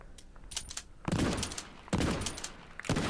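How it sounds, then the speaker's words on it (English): Shotgun blasts in the VR game Contractors VR: three loud, heavy booms spaced about a second apart, with lighter mechanical clicks of loading and handling in between. "These are the best video game shotguns in VR that I've tried."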